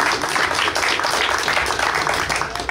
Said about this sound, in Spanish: Y un aplauso a nuestro líder,